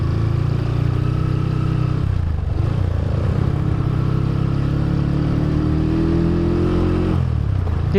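A Honda GL motorcycle fitted with a replacement carburetor runs loud and close, its engine note stumbling and dipping briefly as if about to stall, then recovering.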